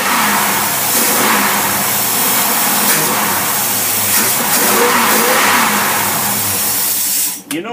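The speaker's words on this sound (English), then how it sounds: "Okay, we're going to rev it up." A Pontiac engine fitted with a Carter AFB carburetor revs up loudly and steadily, holding a high, sustained roar for several seconds before dropping off abruptly at the end.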